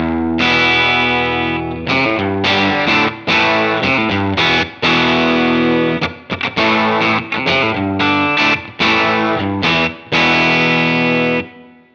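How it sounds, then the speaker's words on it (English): Electric guitar through a Strat bridge noiseless single-coil pickup, played as a run of bright, chorused and slightly driven chords and single notes, with strums and short gaps, loud and close. "This is the classic kind of Strat bridge sound."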